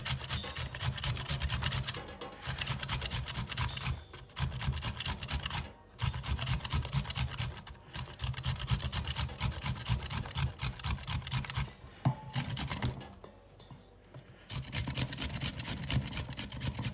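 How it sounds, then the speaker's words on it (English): A carrot grated for a Jamaican raw vegetable salad. Close, loud rasping strokes repeat in long, even runs with brief pauses between bursts. "So you're going to grate your carrot now."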